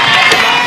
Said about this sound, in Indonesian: Sekali lagi tepuk tangan buat keluarga mereka.